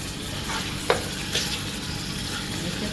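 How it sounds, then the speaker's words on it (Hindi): Steady frying sizzle of a goat head in a pan with a couple of brief scraping stirs, close by and moderately loud, no voices. "अच्छे से 2 मिनट्स हम इसे स्टर करते हैं"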